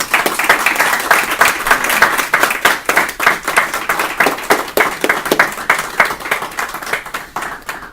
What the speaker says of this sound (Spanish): Recibámoslo con un merecido aplauso.